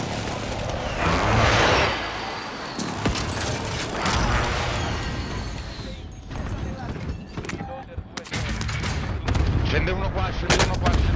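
Gunfire in an online battle royale shooter, sharp shots and bursts popping repeatedly across the scene, with players talking over the action.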